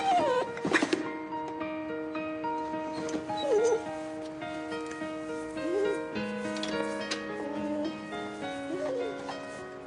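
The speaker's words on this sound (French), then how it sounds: "Il ne vous a rien fait, ce petit chien?" A small dog yips, whimpers and barks in short high bursts, with plaintive whines in between, close by and over a quiet background.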